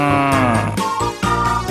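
A cow moo from a children's animal-names cartoon with farm toys, a single drawn-out, loud harmonic call lasting under two seconds with no talk over it.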